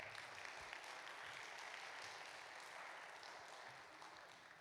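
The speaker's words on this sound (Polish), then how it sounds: "Wielkie brawa." Steady applause from an audience at a traditional Polish carol concert fills the hall, a dense patter of clapping that slowly tapers off.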